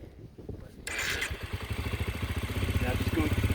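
A dirt bike engine idles in neutral, a close, rapid, pulsing mechanical putter that kicks in after a quiet moment and holds steady with a slight rise, while a voice speaks briefly beneath it.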